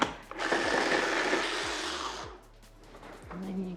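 A blender whirs loudly for about two seconds, blitzing homemade basil pesto, then cuts off, leaving quiet rattles and a brief low hum.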